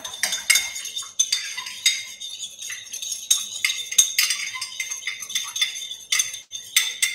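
A metal teaspoon clinks rapidly and repeatedly against the inside of a cup or bowl while sugar is added and stirred in, bright ringing taps in quick irregular bursts, close up with no talking.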